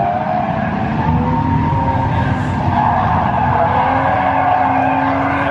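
A drifting car's tires skid and squeal continuously over a steady engine roar, loud and sustained as the driver works the throttle to swing the car through a slide.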